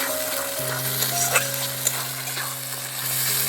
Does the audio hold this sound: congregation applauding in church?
no